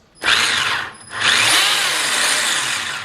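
The electric motor of a Tamiya TT-02 Toyota GR86 radio-controlled car whirs up sharply, cuts briefly, then spins again in a sustained high whine, close and loud with no talk.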